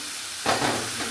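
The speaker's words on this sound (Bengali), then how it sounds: "এবারে জল দিয়ে দেবো, প্রয়োজন মতো" Water is poured into a hot pan of rohu fish curry with ridge gourd and potato. Steady background noise gives way to a sudden loud sizzling hiss that settles into a bubbling simmer.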